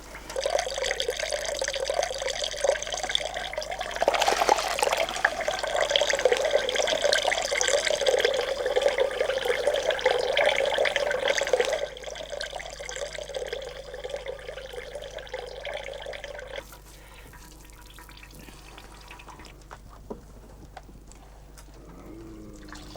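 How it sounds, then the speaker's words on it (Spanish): Hot liquid beeswax mixed with boiling water drains from a press bag filter after melting old combs, a steady trickling, splashing stream that runs loud for about twelve seconds, then thins to a quieter flow and sparse drips. "la cera líquida escurre mezclada con el agua"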